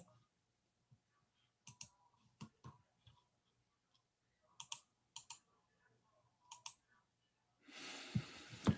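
Sparse mouse clicks sound in small clusters, quiet and close, separated by silent gaps, followed by a brief burst of rustling noise at the end.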